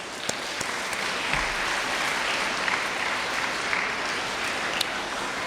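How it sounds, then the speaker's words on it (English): An audience at a science and space technology lecture gives a round of applause, steady moderate clapping that fills the room evenly, with a few sharper individual claps standing out. "How about a round of applause?"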